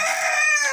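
A single rooster crows once, loud and close, a brief bright call from a backyard flock of about twenty hens and two roosters.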